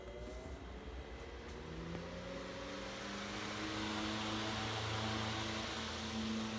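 A c. 1912 Robbins and Myers 12-inch gearback oscillating fan runs at high speed, giving a faint, steady whirring hum with sustained motor tones and soft airy noise throughout.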